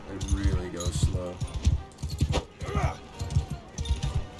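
Slow, uneven hoofbeats of a lame horse walking in the Mount & Blade II: Bannerlord video game, a soft repeated clip-clop running under a voice.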